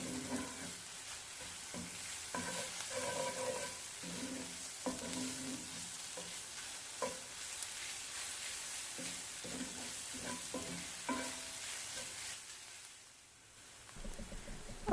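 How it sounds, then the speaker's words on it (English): Garlic chicken ingredients sautéed and stirred in a pan, with a steady close sizzle broken by repeated scraping and clinking stirs that fade briefly near the end. "So now I'm just going to continue sauteing, mixing and combining all of the ingredients well."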